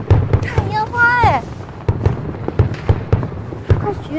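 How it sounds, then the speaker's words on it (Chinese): Fireworks burst in a run of sharp, loud bangs and crackles, with rising whistles from launching shells near the start. "看烟花哎！"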